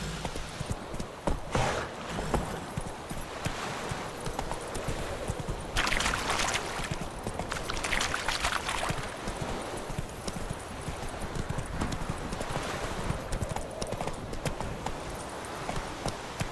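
Horse hooves clip-clop steadily at a gallop while riding in The Witcher 3, a continuous rhythmic pounding with faint whinnies and ambient game sound layered throughout.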